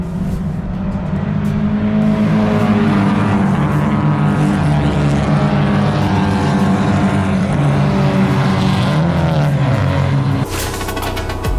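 Pack of Porsche 944 race cars at the start of a race, loud sustained multi-engine drone with pitch climbing as they accelerate away, fading at the end.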